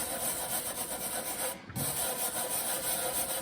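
A brass bristle brush scrubs over a textured brass clock dial during restoration, producing a steady close rasping rub that repeats in quick strokes, with one brief pause midway.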